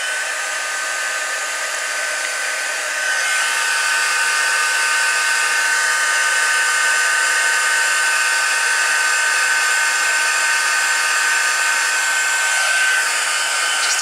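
A heat embossing tool blows hot air onto a card, giving a steady, loud hair-dryer-like whoosh with a faint whine that runs unbroken for the whole stretch and rises slightly in level after a few seconds.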